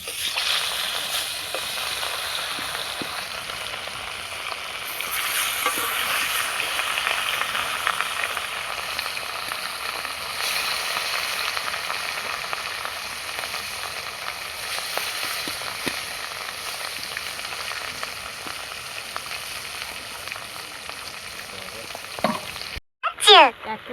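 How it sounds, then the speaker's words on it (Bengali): Rohu fish pieces fry in hot mustard oil, a steady hissing sizzle running for many seconds with faint spatters, a few soft utensil clinks near the end. "তেলটা গরম হয়ে গেছে, এবার আমি মাছ দিয়ে দেব।"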